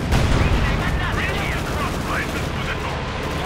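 Battle gunfire from Company of Heroes 2 keeps up a dense rattle of shots under a commentator's voice, with a steady wash of combat noise throughout.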